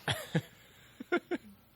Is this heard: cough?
yes